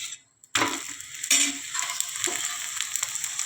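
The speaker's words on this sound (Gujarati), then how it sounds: "બીજી બાજુ પણ આપણે અડધી ચમચી તેલ લગાવી દઈશું." An onion paratha roasts in oil on a hot griddle, sizzling loudly and steadily right after a brief silence, with crackling pops running through the bright frying hiss.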